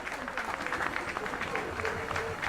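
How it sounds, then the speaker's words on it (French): A crowd at a Dakar fight night applauds in tribute to a fighter named Moko, a steady close roar of clapping with voices mixed into it throughout. "On peut applaudir Moko, s'il vous plaît."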